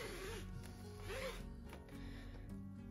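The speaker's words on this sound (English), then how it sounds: "Thread your sliding adjuster onto your webbing" Nylon bag webbing zips through a sliding adjuster as it is threaded on while sewing a sling bag, a close rasping slide repeating a few times over a steady backdrop of soft tonal music.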